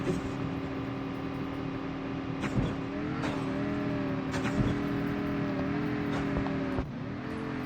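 A vehicle drives in Call of Duty Mobile, its engine droning steadily and rising and falling in pitch as it accelerates and eases off, with brief knocks along the way.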